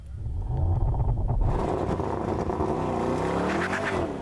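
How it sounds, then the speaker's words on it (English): A Mercedes-AMG GT63 V8 engine roaring under hard acceleration, a deep loud rumble that climbs in pitch through the gears, steady and close. "That V8 is just hard to beat, bro. It's like one of the best sounding engines."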